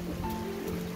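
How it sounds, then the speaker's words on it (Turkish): Rain mixed with small hail falling steadily in Russia's Amur region, a soft continuous patter with no speech, fairly quiet throughout the short stretch. "Şimdi yağmur yağıyor bak. Hem de ufak ufak dolu kar gibi bir şey."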